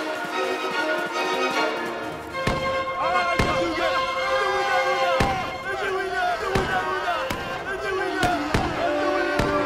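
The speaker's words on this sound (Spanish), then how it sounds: "Los derribaron a balazos." Several sharp, loud bangs ring out at irregular intervals over a dense backdrop of music and shouting, like gunshots in a dramatized audiobook scene.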